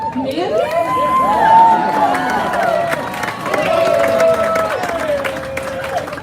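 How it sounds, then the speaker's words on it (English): An outdoor crowd at a Hollywood Walk of Fame star ceremony for Mandy Moore cheers and applauds, with sustained whoops and whistles riding over steady clapping and babble. "let's give a round of applause"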